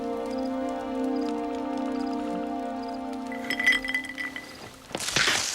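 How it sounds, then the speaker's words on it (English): Glass jingles and clinks in a TV show scene from LOST, faint small chimes over a sustained musical drone at first, then a louder burst of clinking and rattling near the end. "Dude, I hate the jingling of the glass."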